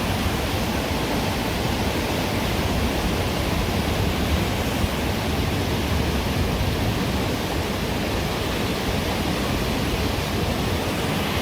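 Waterfall in Øye, Norway, seen up close on a hike: a steady, dense roar of falling water that holds level throughout with no break and no voices.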